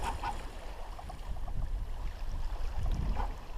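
Wind rushes steadily and fairly close while a sailboat is underway on Lake Huron, a broad airy whoosh with low gusty buffeting and faint water wash, swelling slightly toward the end, with no voices.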